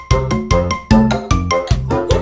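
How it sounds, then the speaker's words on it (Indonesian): Phone ringing with an incoming call, a repeating tonal ring pattern in quick pulses, loud and close, heard alone without talk. "telepon masuk dong"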